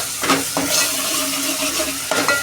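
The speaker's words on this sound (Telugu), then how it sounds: "పసుపు ఒక స్పూన్ ఉప్పు కొద్దిగా మళ్ళీ మిక్స్ చేస్తాను" Masala with turmeric and salt being stirred into goat head curry in a pot, a few scraping strokes over a soft steady sizzle, close and fairly loud.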